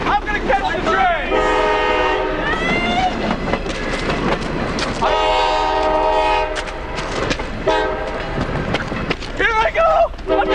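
A train rolls past while its horn sounds in several long, steady blasts, loud and close, with voices speaking over the rumble.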